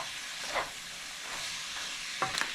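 Homemade chili bubbles in a pot while being stirred, giving a steady sizzling hiss with a few short scraping bursts at intervals, no voices.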